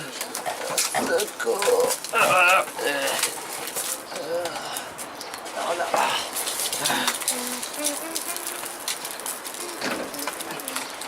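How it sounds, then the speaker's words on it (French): Pigeons coo in soft, throaty bursts from a flock gathered nearby, mixed with people talking and scattered rustling noise. "C'est bizarre, il y a plein de pigeons par là-bas."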